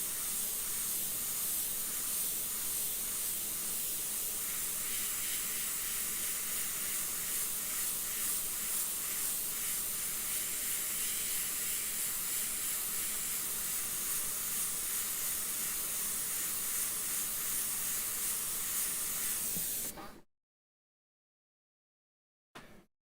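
An airbrush sprays paint in a steady, continuous hiss for about twenty seconds, close and fairly quiet, then cuts off into silence with a brief burst at the end.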